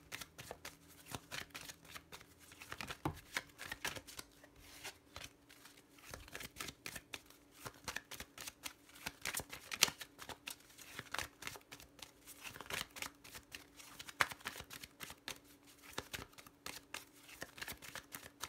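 Lenormand card deck shuffled by hand in repeated quick riffles and slides, close and soft, a dense crisp rustle continuing for about eighteen seconds with no voices.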